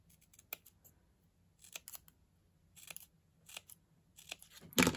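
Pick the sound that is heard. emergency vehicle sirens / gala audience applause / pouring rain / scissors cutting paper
scissors cutting paper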